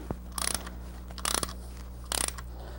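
Ratchet snugging a pipe plug fitting on a transmission cover, heard as three short bursts of rapid pawl clicks, close and fairly loud, separated by pauses over a steady low hum.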